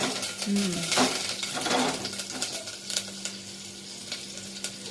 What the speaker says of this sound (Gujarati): રાઈ, જીરું, લીમડો ને તમાલપત્રીનો વઘાર.